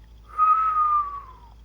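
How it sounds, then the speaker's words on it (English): A single thin, high whistle rises in, holds, and slowly slides downward before fading, like wind whistling. "and the wind whistled"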